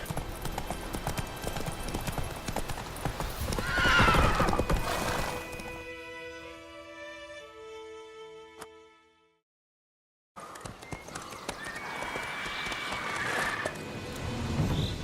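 Horse hooves clip-clop in The Witcher 3 along with a whinny, then the hoofbeats fade behind a sustained musical tone, a short silence follows, and the hooves and game noise return.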